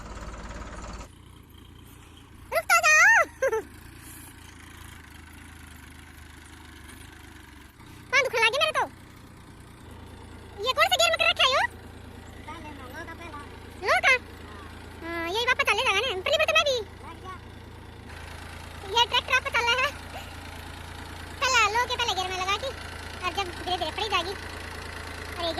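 A farm tractor's engine idles in a field, where it is hauling fertilizer. The low, steady mechanical drone runs throughout, under frequent bursts of nearby talking.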